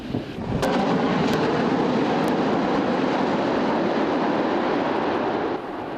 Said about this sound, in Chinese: 现场拢是战斗机的烟引声